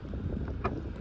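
Steady wind gusting across open water on Lake Texoma while fishing from a boat, a constant close rumble with a brief louder buffet partway through.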